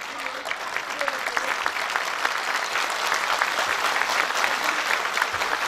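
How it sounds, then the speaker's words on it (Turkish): An audience at a Kastamonu community gala night applauds a plaque presentation with dense, steady clapping that fills the whole stretch at an even loudness. "Alkış alkış. Biraz daha alkış."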